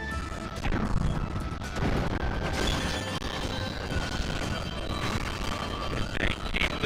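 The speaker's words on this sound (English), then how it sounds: "They're bombing us again!" Sengoku Basara: Samurai Heroes ship battle with cannon bombardment: a dense, continuous roar of crashes and booming impacts with a raging battle mix, loud and unbroken throughout.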